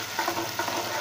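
Food frying in a pan gives a steady, close sizzle with a few soft stirring scrapes over about a second.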